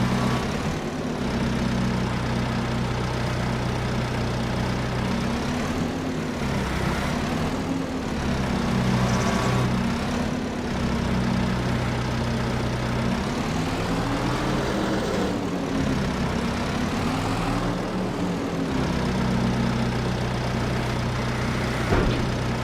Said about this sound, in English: it's nice having this forklift with some power